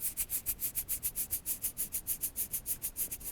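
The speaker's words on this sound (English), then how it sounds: "I'm just going to rub my fingers together." Fingers rub together right in front of a Rode NT2 condenser microphone, giving a steady, rhythmic series of soft scraping strokes, roughly six per second, close and alone with no other sound.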